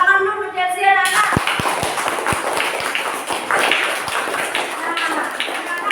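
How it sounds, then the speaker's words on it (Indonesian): A classroom of children claps along with a teacher, a quick run of sharp hand claps followed by looser scattered clapping and chatter, with a voice speaking just before. "Tepuk tangan dulu untuk Chelsea anak-anak."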